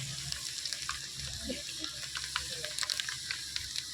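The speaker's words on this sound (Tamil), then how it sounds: "இப்போ வடகம் போடுறோம்." Vadagam, a sun-dried seasoning mix, sizzles steadily as it is tempered in hot oil for a garlic-pepper kuzhambu, with scattered crackles and pops over a constant hiss, no one speaking.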